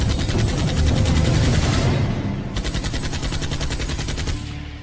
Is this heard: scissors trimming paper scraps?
no